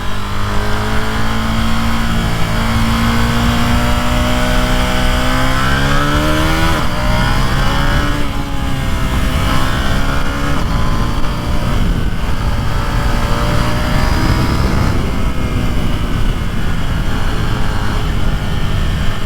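KTM 890 Duke naked motorcycle fitted with a new windshield, engine revving while riding, climbing through several gears with rising pitch sweeps and shift breaks, loud and close with steady wind rush.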